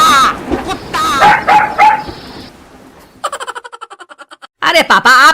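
A man imitates a dog with a rapid burst of about ten short, loud yapping barks, coming right after his own talking and followed by more speech.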